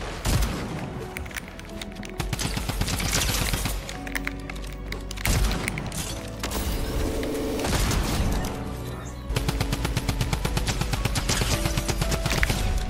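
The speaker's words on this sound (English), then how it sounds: "I'm shooting your wall" Rapid video game gunfire hammering at a player-built wall, loud sustained volleys of sharp cracks with short pauses between bursts and a dense stretch of continuous shooting near the end.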